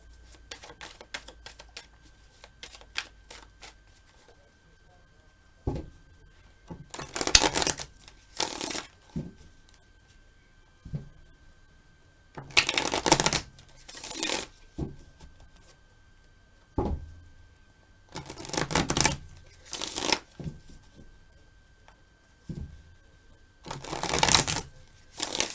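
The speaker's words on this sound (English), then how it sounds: "I will use these cards, and then for the guidance I will use the Greenwich Tarot." Tarot cards, including a Greenwich Tarot deck, shuffled close up in repeated riffling bursts of a second or two, separated by quieter pauses with light handling.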